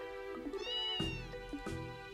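A cat meows in the video game Trails in the Sky SC, a few drawn-out, tonal meows close and clear over a sustained musical background, with no voices.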